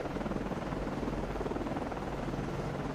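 An aircraft flying in the Cold Waters submarine game, a steady, faint, throbbing rotor-like drone that continues unbroken throughout.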